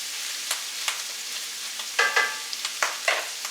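Ingredients browning in a pan for a 15-bean soup give a steady sizzle with periodic scraping strokes of a utensil, close and fairly loud, with no talking.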